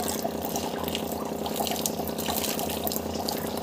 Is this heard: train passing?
no